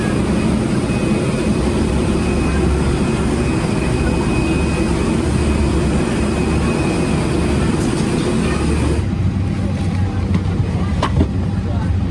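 Engine noise from an airliner at an airport jet bridge ahead of a United Airlines Airbus A319 flight out of Pittsburgh, a loud, constant roar with a faint high whine that suddenly drops in level near the end.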